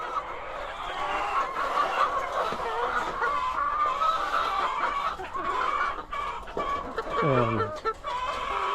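Young hens that have just started laying cluck and squawk close by in a busy coop, with a rooster's call rising near the end and a voice speaking briefly.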